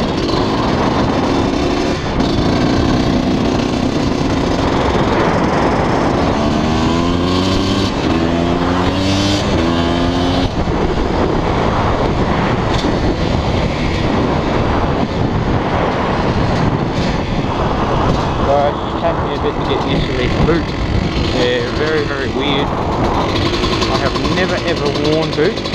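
A KTM motorcycle engine during bush riding, loud and close, revving up and down through rough terrain with a droning tone and repeated rising pulls, with a person talking over it in places.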